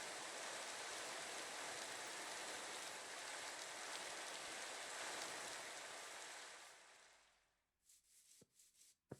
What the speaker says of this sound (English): Please stop, rain.